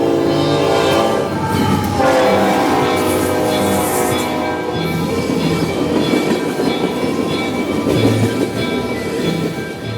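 A Norfolk Southern Dash-9 diesel locomotive rumbles loudly with a deep, steady engine roar while its multi-tone horn blares in sustained blasts across the whole stretch.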